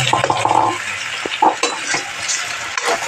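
Chicken simmering in tomato paste sauce: close, busy sizzling and bubbling, with spoon-stirring clinks and scrapes against the pot.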